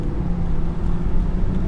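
A Lamborghini Evo accelerates on a road just ahead, giving a steady, full engine and road rumble that stays loud and even throughout, with no talking.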